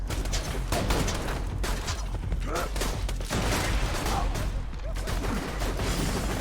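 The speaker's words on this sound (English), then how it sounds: "I hear gunfire." Gunfire in the co-op shooter Borderlands 2: rapid, overlapping shots and bursts crackle continuously at close range, with faint voices underneath.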